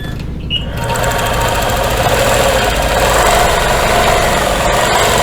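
Sewing machine quilting a feather design along a Dresden quilt border, running loud and close with a steady rapid mechanical chatter throughout after a brief quieter start.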